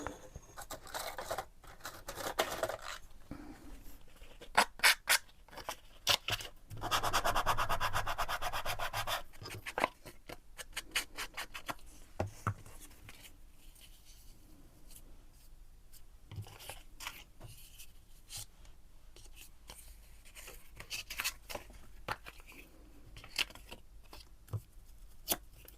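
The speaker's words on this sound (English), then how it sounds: "And I'm going to quickly sand this." Sandpaper rubbed with a sanding block on a junk journal craft project, heard as close, irregular scratchy strokes that come in bursts with pauses between them. No one speaks.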